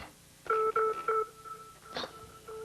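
Three crisp electronic beep tones in quick succession, each pairing two steady pitches like telephone keypad dialing, followed by softer modulated tones and a brief noisy burst, set in a children's space-mission cartoon about a music master.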